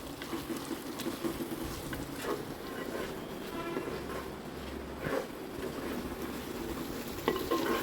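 Ginger garlic paste fries in oil in a pan, a soft continuous sizzle with occasional stirring scrapes, close and moderately quiet, with no speech.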